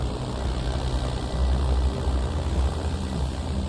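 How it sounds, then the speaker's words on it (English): A light propeller aircraft taking off from a runway in Israel, giving a steady, loud engine and propeller drone with a deep rumble and no break. "runway 15, clear for takeoff"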